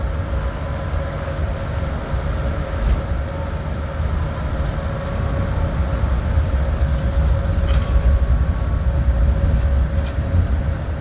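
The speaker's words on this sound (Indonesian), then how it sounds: "kereta api Tegal Bahari meninggalkan stasiun Cirebon Perujakan" The Tegal Bahari train rumbles and rolls steadily departing Cirebon Prujakan station in Indonesia, with a low continuous drone and occasional faint metallic squeals and clanks over the noise.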